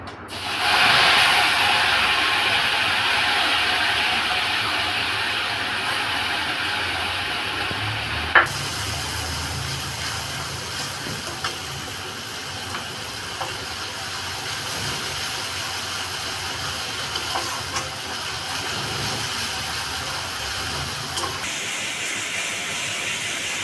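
Cumin, ginger and green chili paste frying in hot oil for a gravy, a steady close sizzle that hisses on without pause throughout.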